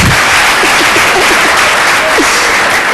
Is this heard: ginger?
no